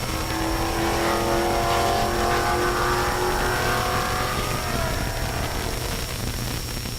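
A drag race launch between an 89 Fox Mustang and a chameleon-painted G8 at Rocky Mountain Race Week 2023: loud roaring engines rise in pitch as the cars accelerate hard and pull away, a continuous close blast fading slightly at the end.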